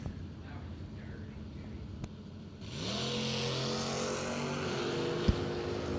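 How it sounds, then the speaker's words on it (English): Drag racing cars launching off the starting line at a Labor Day bracket race, a rising engine roar that swells and holds steady over an announcer's commentary, with a sharp crack partway through. "Leaving the starting line, and Steve Riggins takes 5 thou to be 5 thou more under the dial-in"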